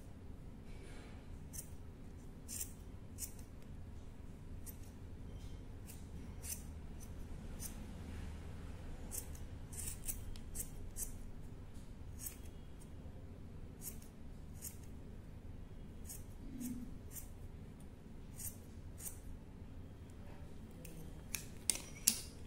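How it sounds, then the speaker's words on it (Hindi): Scissors snip through wool yarn while a pom-pom is trimmed free for a handmade toran. The faint, quick clips repeat irregularly over a soft background hiss, and a few sharper cuts come near the end. "जिस ऊन से बांधा था उस ऊन को भी हम यहाँ पे काट के अलग कर लेंगे।"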